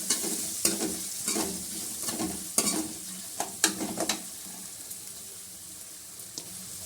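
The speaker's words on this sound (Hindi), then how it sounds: "प्याज में हल्का हल्का गोल्डन ब्राउन करेंगे" Onions frying in cumin until golden brown for a whole masoor dal tadka, as a continuous sizzle broken by repeated stirring scrapes and spoon knocks, close by with no one talking.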